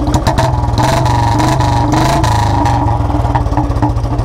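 A Royal Enfield Bullet 350 with a C-bend long Punjab exhaust pipe thumps loudly up close, revving in rough pulsing bursts with a choppy, uneven beat.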